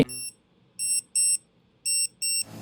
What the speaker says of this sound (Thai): สามารถกดค้นหาด้วย เสียงให้เจ้าของได้ยินได้แบบนี้